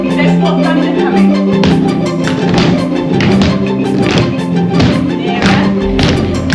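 A group of people stamp and thump on the floor in a dance workshop to imitate thunder, making a loud, continuous rumble of irregular heavy thuds with sharp claps rising above it.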